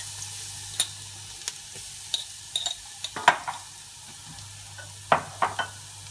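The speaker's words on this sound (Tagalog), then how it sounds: "Pag mainit na po yung mantika, una natin gagawin is lalagyan natin yung mga minced na bawang." Minced garlic sautés in hot oil for sopas, a low sizzle broken by scattered sharp clinks and scrapes of a utensil against the pan, with no talk.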